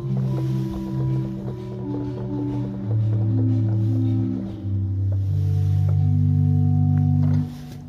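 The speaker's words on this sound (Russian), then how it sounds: "Слышите, как здесь работают механизмы?" Inside the Moscow Cathedral of Saints Peter and Paul, an old pipe organ sounds a sequence of sustained low and middle notes, with faint mechanical clicks and taps from its working action between the tones.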